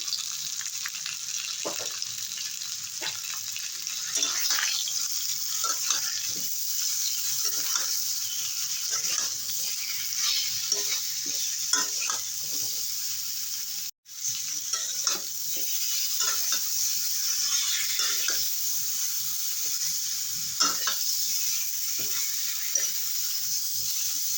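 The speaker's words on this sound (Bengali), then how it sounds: "এবারে আরো দু তিন মিনিটের মতো কষিয়ে নেবো" Steady sizzling in a pan with frequent scraping and stirring as rohu fish curry masala is sautéed, a continuous close crackle lasting throughout with no voices.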